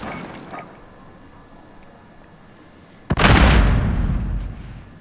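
A spawn tube shot fired in the Modern Warfare video game, at the Atlas Superstore map. It comes as a single sudden loud blast about three seconds in, then a sustained roaring rumble through the end, after a quiet stretch.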